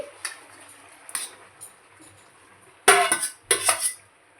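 Paneer being added to a pan of boiled vegetables for butter veg paneer, with a few light clinks early on, then two louder bursts of clattering spoon and pan scraping near the end.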